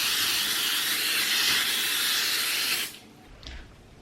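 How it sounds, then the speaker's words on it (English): Cooking spray hisses steadily into a 9 by 13 casserole dish for nearly three seconds, loud and close, followed by a brief short puff. "take your cooking spray and a 9 by 13 casserole dish"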